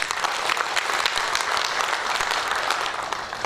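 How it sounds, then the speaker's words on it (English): An audience claps steadily and loudly at a public address on nation building in a diverse democracy, a dense continuous wave of applause lasting throughout. "Let's clap for this."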